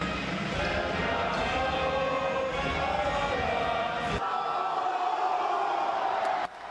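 A high school student section roars and cheers loudly at a basketball game, a dense, sustained crowd noise with voices, bouncing balls and shouts that cuts off abruptly partway through, leaving quieter ambience.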